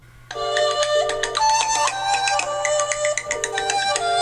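Incoming-call ringtone from a KOSPET Optimus 2 Android smartwatch, a loud, bright electronic melody of repeating tonal phrases that starts abruptly and plays on alone for several seconds over a faint steady hum.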